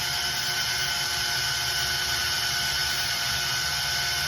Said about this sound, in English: Keep your fingers out of the way when the drill goes through.